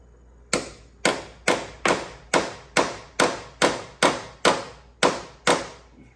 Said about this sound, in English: we'll stick it back in there and smack it to drive it in tight